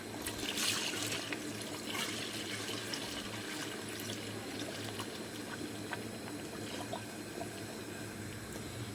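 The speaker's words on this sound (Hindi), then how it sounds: "इसमें हम जो इसकी यखनी थी वो अब इसमें हम शामिल कर देंगे।" Yakhni stock is poured into mutton paya cooking in a pot, a steady liquid pour and trickle over a bubbling simmer, continuous and moderately close, no voices.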